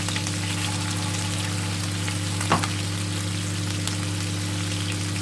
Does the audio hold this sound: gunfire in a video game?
no